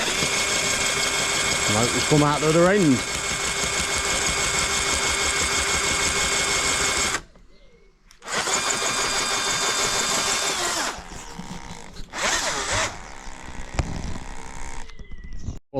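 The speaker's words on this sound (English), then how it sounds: "so we're just going to carry on drilling." A loud, continuous drill whine runs for several seconds through a fibreglass bumper for a 1992 Nissan 300ZX, cuts out briefly, then resumes in shorter bursts while a voice speaks nearby.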